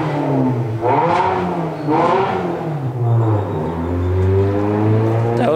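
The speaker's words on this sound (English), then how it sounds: "either a blue clapped EG hatch or that was a Geo Metro without a muffler" A loud small car with no muffler passes nearby, its raw exhaust rising and falling through several quick revs and shifts before droning away steadily.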